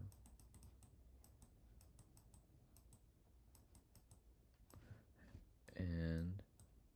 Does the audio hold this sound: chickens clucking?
no